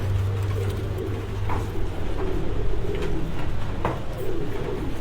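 Champion racing pigeon cooing in soft, repeated low murmurs close by, set against a steady background hum with no talking.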